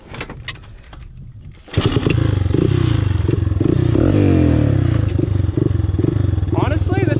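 A Honda 200X three-wheeler with a slipping clutch idles briefly, then its engine snaps to full throttle and holds a loud, raspy, dirt-bike-like roar close by, with some voice underneath.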